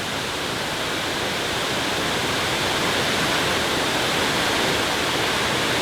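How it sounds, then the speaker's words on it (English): Powerful waterfall in a Colombian jungle, a loud, steady, broadband roar of crashing water filling the whole clip with no pauses and no voices. "Now that's a waterfall and a half."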